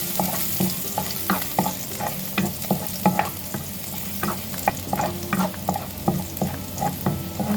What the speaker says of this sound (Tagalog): Gisa na natin ang ating bawang.